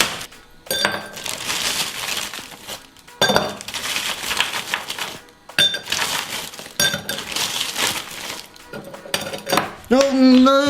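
Ice cubes clink and rattle into a glass in several loud, bright bursts separated by short pauses, with a voice briefly heard at the end.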